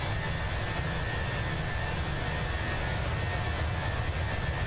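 A steady, unbroken airliner engine roar plays inside the game Microsoft Flight Simulator 2024. It is loud and even, with a faint high tonal whine over the broadband rumble.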